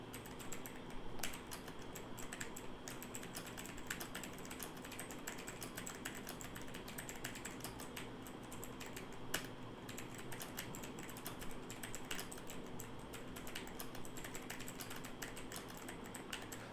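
Rapid, quiet keystrokes patter on a computer keyboard during touch typing practice. The soft clicking stays steady and unbroken for the whole stretch, close up but low in level, with no talking.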